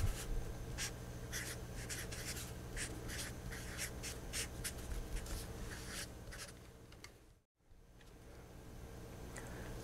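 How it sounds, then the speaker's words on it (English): Chalk or marker scratching across a board in a lecture hall, a run of short, brisk strokes in quick bursts, fairly close, with low room hum beneath and a brief dropout near the end. "So let me write that."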